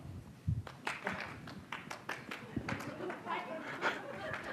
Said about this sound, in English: now your assignment is clap that opening together